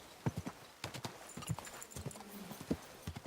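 Horse hooves clip-clop in uneven bursts in the medieval Bohemian setting of the video game Kingdom Come: Deliverance 2, close and fairly clear, alongside a faint snort or whinny and no speech.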